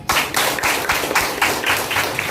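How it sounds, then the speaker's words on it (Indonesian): Audience applause with dense, continuous clapping from many hands in a room, loud and sustained throughout with slight pulsing swells, at a youth motivation event. "Yang kasih aplaus guys"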